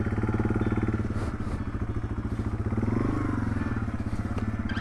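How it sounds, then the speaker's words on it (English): A Yamaha TW200 motorcycle idles and putters at low speed while turning around in a tight space, its single-cylinder engine thumping in a fast, even pulse, close and steady, with a brief rise in revs midway. "It's another nice thing about the TW is you can turn it around in some pretty tight spaces"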